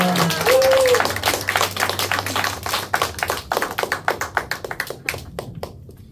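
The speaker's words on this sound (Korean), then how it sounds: "우리 김동현 목사님 축복하고 환영하는 마음으로 우리 함께 박수 부탁드리겠습니다" Applause from a church youth service congregation welcoming a guest pastor, a burst of brisk hand claps that thins into sparse individual claps and tapers off over several seconds.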